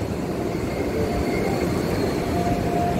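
A long-distance train rolls past the platform at Jatinegara station, a steady loud rumble of wheels and rail noise filling the whole stretch without letup.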